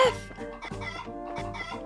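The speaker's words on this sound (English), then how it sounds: "The poor chicken!" A chicken clucks in the video game Trails in the Sky SC, several quick close clucks in a row over game music.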